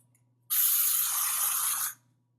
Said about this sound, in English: I take the hairspray and I spray it underneath